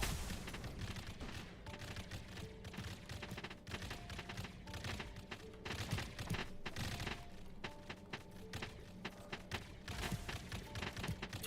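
Rapid, continuous turret and missile fire in the pixel autobattler There Are No Orcs, a dense crackling barrage of small gunshots and booms with no pauses, fairly quiet overall.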